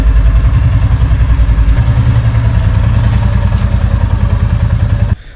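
A Royal Enfield Classic 350 Dual Channel motorcycle idles close by with a loud, even, thumping single-cylinder pulse that runs steadily until it cuts off abruptly near the end.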